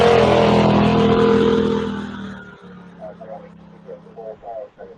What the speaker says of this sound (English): So that's car 23 just going up there.